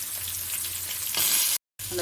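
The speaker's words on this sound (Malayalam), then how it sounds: "അതുകൊണ്ട് ഈ 2 എണ്ണം വെച്ച് നമുക്ക് വറുത്തെടുക്കാം." Two large pieces of fish fry in hot oil in a pan, giving a loud, steady crackling sizzle that swells briefly, cuts out for a moment, then resumes.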